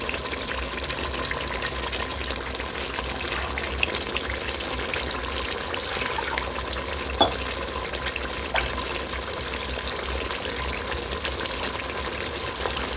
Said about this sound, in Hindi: जिस बाउल में हमने मैरिनेशन की थी उसमें 1 गिलास पानी डाल के उसी को हिला के हम इसमें डाल देंगे।